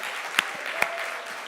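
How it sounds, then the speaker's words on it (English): Audience applause for project presentations at a showcase event, a short burst of dense clapping with a couple of sharper louder claps standing out. "can we get a big round of applause for all the projects?"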